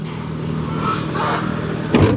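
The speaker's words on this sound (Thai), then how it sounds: "เดี๋ยวพาพี่น้องเอาเบิ้งเครื่องนะครับ" A 2013 Mitsubishi Triton single-cab pickup with a gasoline engine runs with a steady, loud drone nearby, then gives a short sharp rise in pitch near the end.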